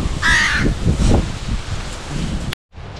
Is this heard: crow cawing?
yes